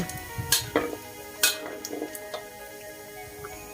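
Soft sizzling from pork belly frying in a wok, punctuated by several sharp clicks and scrapes of a utensil against the metal, with no talking.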